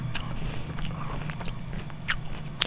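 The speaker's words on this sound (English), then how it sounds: "if you hear crunching in the background, that's me" A person munches on crunchy food during a gaming session, with a steady run of moderate, irregular bite and chew crunches over a constant low hum, one crisper crunch standing out near the end.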